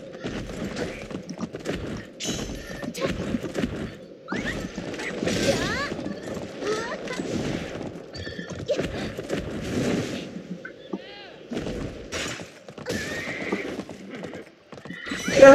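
Horse hooves clip-clop steadily at a gallop in a video game, with a horse neighing and whinnying over them; a voice speaks briefly in the background.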